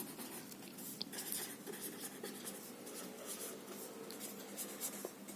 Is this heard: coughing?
no